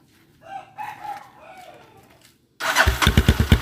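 Honda GL motorcycle with a custom exhaust starting up. After a stretch of faint rustling, the engine catches and runs loud and close with a rapid, pulsing exhaust beat.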